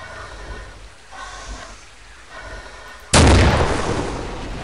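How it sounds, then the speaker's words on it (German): A single heavy anti-tank rifle shot in the STALKER video game booms out suddenly after a few seconds of low ambient rumble, its loud blast tailing off into a sustained roaring decay. "Panzerbüchse."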